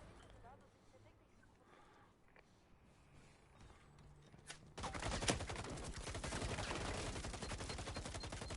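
Gunfire bursts out in a shooter video game as a player blind fires, starting with faint scattered shots and then turning into a loud, dense stream of rapid rounds over the last half.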